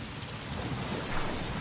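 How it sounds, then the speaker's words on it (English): Heavy rain pours steadily with low rumbling thunder underneath, a dense, continuous wash of sound in an outdoor setting during an expedition in South America. "At least rain had turned down the heat."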